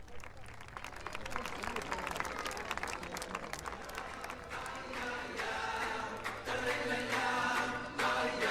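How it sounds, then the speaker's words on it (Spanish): Audience applause at a Hanukkah celebration in Buenos Aires, a dense, steady clatter of many hands that swells louder toward the end, with murmured voices and musical tones mixed underneath. "Un aplauso."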